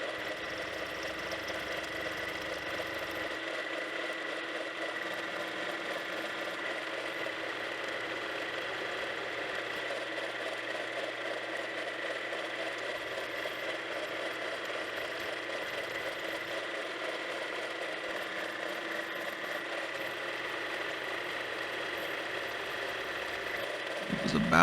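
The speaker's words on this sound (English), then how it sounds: "Then I started cutting the slot for the 12mm high-speed steel cutter" A milling machine cuts a slot with a 12mm high-speed steel cutter, giving a continuous, even mechanical whine and hum over a faint low rumble for the whole stretch.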